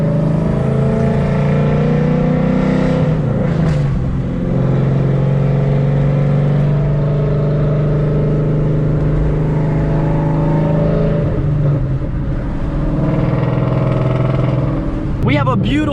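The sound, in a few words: Ford Coyote V8 engine idling in a Mustang, possible misfire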